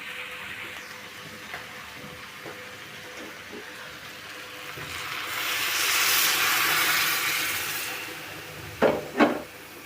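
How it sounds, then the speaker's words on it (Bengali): Hot water pours into a pot of khichuri with rice and spices, swelling into a broad hissing rush midway before easing off, followed by two quick clanks near the end. "এই তো এখন আমি গরম পানি দিয়ে দিব।"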